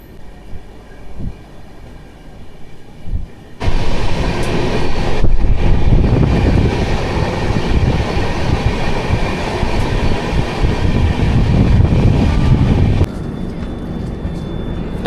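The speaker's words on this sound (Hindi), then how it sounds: "हमारी ट्रेन भागलपुर से खुल चुकी है" A Godda–Mumbai LTT SF Express train runs steadily, with a low rumble and rattling wheel clatter that swells loud after a quieter opening and holds for most of the stretch before easing slightly near the end.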